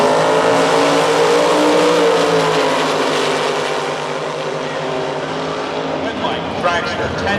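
A dragster roars at full power through a Top Bulb eliminations run at the Independence Showdown drag race, a loud, steady, high-pitched engine howl that stays strong throughout and thins slightly near the end, with an announcer talking over it.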